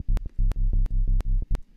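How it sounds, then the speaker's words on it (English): A filtered sine sub bass from a Serum synthesizer plays a short, simple pattern of rhythmic low notes, each a deep rounded pulse with brief gaps between, clean and alone. "we have a little sub here with the same notes that are playing in this MIDI file."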